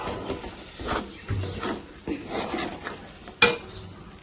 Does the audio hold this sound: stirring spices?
yes